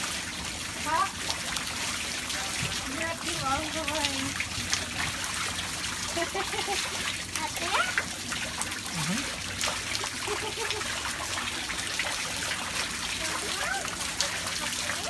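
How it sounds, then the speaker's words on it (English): Florida rain falling outdoors while a small child splashes and plays in the water, giving steady trickling and spattering close by, with brief excited child vocalizations and adult voices speaking over it. "Florida rain."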